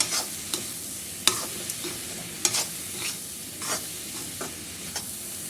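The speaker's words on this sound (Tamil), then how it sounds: "தேவையான அளவுக்கு உப்பு போட்டுக்கலாம் போட்டு நல்லா கலரிக்கலாம்" Carrots being stirred with salt in a frying pan for carrot rice, with scattered spatula scrapes and taps over a soft, steady sizzle.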